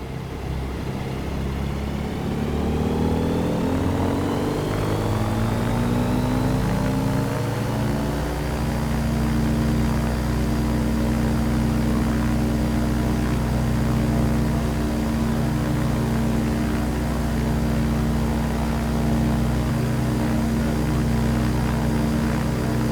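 A Sting S4 light aircraft engine in Microsoft Flight Simulator drones loud and close during a takeoff climb, its propeller pitch rising and then settling into a steady, even hum with no voices over it.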